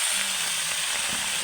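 Meat boils and sizzles in a cooking pan, giving a continuous, loud, hissing fry close up, with faint bubbling and a low murmur underneath.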